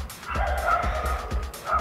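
Several dogs bark and yip nearby in quick, repeated bursts, loud and close, with no talking.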